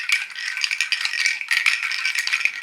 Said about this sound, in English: I think they're Seedpods.